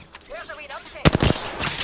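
Smart-bullet gunfire in Apex Legends erupts as a burst of rapid shots in the second half, following a stretch of warbling game sounds; loud and close.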